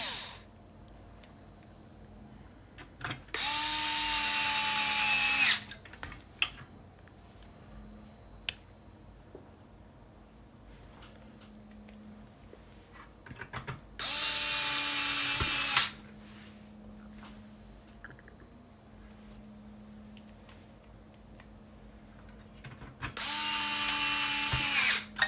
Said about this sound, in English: So let's install some of these screws